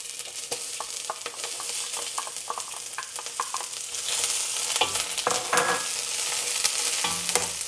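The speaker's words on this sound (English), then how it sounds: "We're gonna fry up the veggies now." Garlic, onions and celery stir-frying in an oiled wok: a loud, continuous sizzle broken by frequent scraping and tossing clicks of the spatula, growing busier and denser partway through, with no talking.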